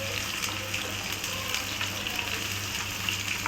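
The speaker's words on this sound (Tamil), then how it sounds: "நல்லா வெங்காயம் ஓரளவுக்கு ப்ரௌன் கலரில் வேகிற அளவுக்கு வேகட்டும்" Small onions fry in a pan for a goat liver gravy, producing a steady, even sizzle with light crackles and no talking.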